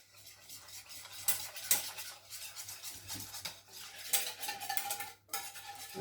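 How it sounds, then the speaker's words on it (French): Whole milk being stirred with yogurt starter, a spoon scraping and clinking steadily against the container in repeated strokes, close and fairly quiet, with no talking. "Mélangez bien votre lait avec le ferment"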